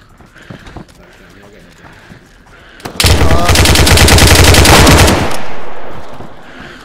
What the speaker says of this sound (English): I got sniped